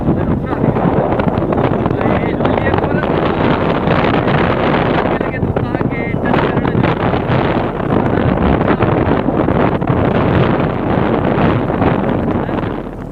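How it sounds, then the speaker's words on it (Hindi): Strong, cold wind blows across a cloud-covered hilltop at Ghorakh hill station. It buffets the microphone in a constant loud roar from start to finish, with no clear talk over it. "हवा बहुत तेज़ थी, जिसकी वजह से हमें ठंड भी बहुत हो रही थी।"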